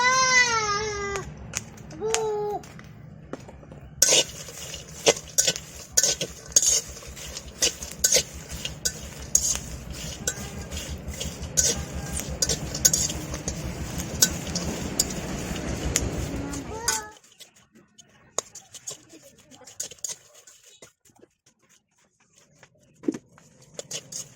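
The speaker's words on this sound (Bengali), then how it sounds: "এবার দিয়ে দেবো এই যে শুকনা মরিচ।" Dry red chillies added to half-fried garlic in a frying pan, giving a steady sizzle with repeated scraping and stirring clinks for about seventeen seconds before it drops to near quiet, with a voice talking over the start.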